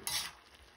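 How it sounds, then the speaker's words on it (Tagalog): Vegetables for chop suey being stirred in a hot pan, a short scraping stir over a soft sizzle that fades after a brief louder burst. "Haluin natin para pantay-pantay na maluto ang gulay."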